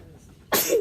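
A single sharp sneeze bursts out after a brief quiet moment, close and loud.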